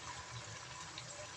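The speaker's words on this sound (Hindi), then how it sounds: "तो जी अब मैं डाल देती हूँ हल्का सा इसके अंदर पानी" About half a glass of water pours into a cooking pot of potato and eggplant (aloo baingan) curry, giving a steady, faint, continuous splashing gush with no talk.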